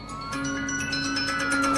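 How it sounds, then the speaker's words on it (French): Police car sirens wail with rising and falling tones at a moderate distance, continuous and fairly loud with no talking. "il y a plein de voitures de police avec les sirènes allumées"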